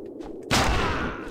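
A single heavy gunshot from a sniper revolver in the video game XIII, a sharp loud blast followed by a long booming decay, after a brief quiet lead-in.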